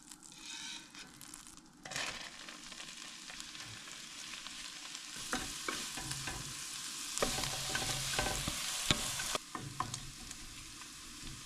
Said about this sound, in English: we're going to chop it up in little bits like this and then pan fry it in some butter